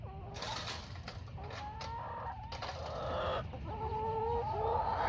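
Hens clucking inside a chicken coop, several birds close by giving repeated rising and falling clucks and short calls over a low rustling background, growing a little louder toward the end.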